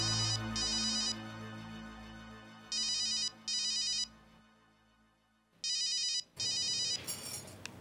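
Electronic phone ringtone for an incoming call in a Hindi TV drama scene, repeating in short bursts of chirping tones with pauses, loud and close, under soft background music.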